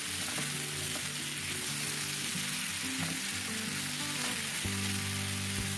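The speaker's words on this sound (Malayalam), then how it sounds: "പൊട്ടറ്റോ നമ്മൾ വളരെ കനം കുറച്ച് അരിഞ്ഞിരിക്കുന്നതുകൊണ്ട് പെട്ടെന്ന് തന്നെ അത് റോസ്റ്റായിട്ട് കിട്ടും" Thinly sliced potatoes frying in a pan give a steady, crackling sizzle with a constant hiss and scattered pops, close and even throughout, with no voices.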